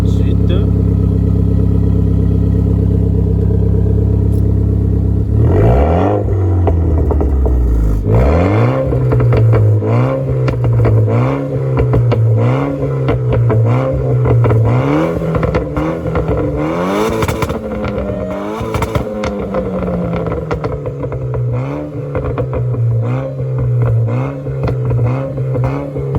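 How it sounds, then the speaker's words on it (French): A car engine idles, then revs repeatedly with sharp rising and falling surges, loud and close, continuing through a long series of throttle blips. "bruit de la voiture"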